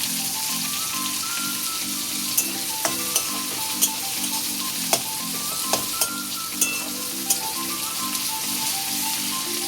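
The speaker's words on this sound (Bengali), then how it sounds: "লোটে মাছের মশলা করছি। এবার লোটে মাছটা বের করে নিয়েছি এখানে।" Bombay duck fish frying with masala in a pan, a steady close sizzle with sharp spattering pops, a repeating tonal hum beneath it and no talking.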